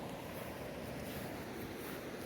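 Steady rushing of water and wind near a river in the Konkan region, a continuous broadband wash with no talk.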